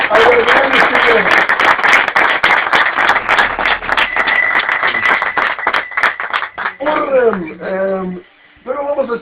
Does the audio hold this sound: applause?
yes